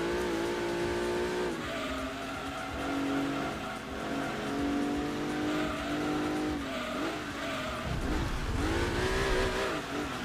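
A race car in Gran Turismo 2 revs steadily through its gears for about ten seconds, the engine note rising and dropping between shifts, with tires squealing through corners and no voices over it.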